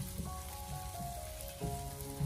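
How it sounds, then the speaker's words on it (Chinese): Eggs stir-fried in a wok give off a soft, continuous sizzle, fairly quiet and steady, with faint sustained tones humming underneath. "将鸡蛋持续的翻炒一小会"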